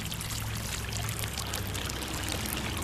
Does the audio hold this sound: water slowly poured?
yes